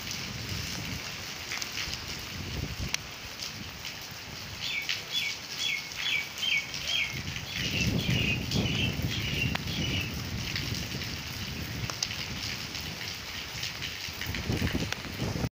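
Steady rain patters across the whole stretch as a broad wash of falling drops, with a run of small bird chirps briefly rising above it midway.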